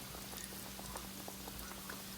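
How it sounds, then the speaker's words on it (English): Ravioli fry in oil in a frying pan, giving a steady close-up sizzle with dense crackling pops and a faint low hum beneath. "So we're gonna let that fry up."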